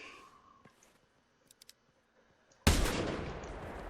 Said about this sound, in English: Had to shoot him with my Basante.